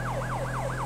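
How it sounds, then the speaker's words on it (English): Federal Signal Delta police siren in the GTA 5 game, a loud rapid wailing yelp sweeping up and down in quick repeated cycles over a low steady engine hum. "This is the Federal Signal Delta siren"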